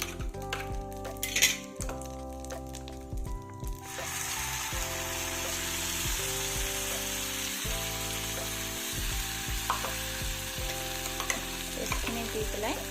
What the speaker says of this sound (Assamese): অলপ ভালদৰে ভাজি ল'ব লাগিব